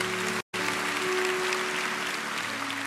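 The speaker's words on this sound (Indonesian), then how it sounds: "Berikan tepuk tangan bagi Tuhan." Congregation applause during a church service, a dense continuous wash of clapping with a steady tonal hum beneath and a brief dropout near the start, otherwise unbroken to the end.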